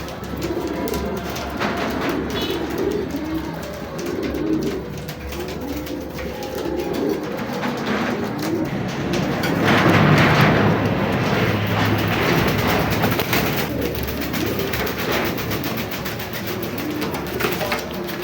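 Racing pigeons coo repeatedly in a low, murmuring chorus close by, steady throughout, with a brief swell of louder noise midway and no talking.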